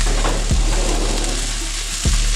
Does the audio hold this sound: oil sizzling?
yes